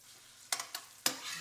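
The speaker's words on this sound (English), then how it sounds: "The first thing I'm going to do is add my onions." Onions cook in extra virgin PDO Kalamata olive oil and are stirred, giving a faint sizzle under three quick scraping strokes of a utensil in the pan; no voices.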